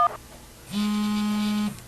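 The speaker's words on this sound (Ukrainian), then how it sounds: "Оксані телефонують колеги з Херсонської та Миколаївської областей" A single telephone tone sounds for about a second, steady and clear after a brief beep, close and alone without any voices.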